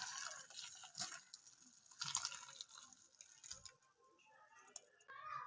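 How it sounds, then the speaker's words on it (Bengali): Chhana from milk curdled with vinegar is strained through a sieve into a deep bowl, whey dripping and trickling faintly in close, uneven splashes and patters. "এই ছাঁকনির মধ্যে আমি ছেঁকে নেব।"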